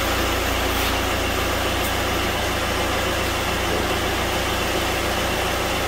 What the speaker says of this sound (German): Dazu muss der Motor natürlich laufen.